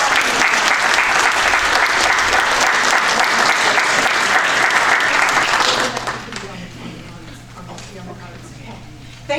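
Audience applause welcoming the moderator at a 2019 candidates forum in Port Wentworth: a dense, loud wash of clapping for about six seconds, then fading out, with a faint low hum behind it.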